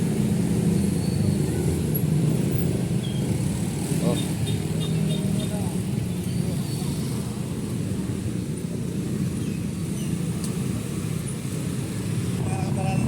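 Steady road traffic rumbles past continuously near a tricycle (toda) terminal, with vehicle engine noise dominating throughout and a voice speaking over it.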